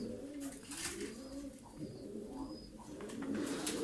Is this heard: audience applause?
no